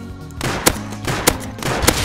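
Gunfire in the survival game Rust, three sharp loud shots spaced about 0.6 seconds apart, each with a booming tail, over a steady low background rumble.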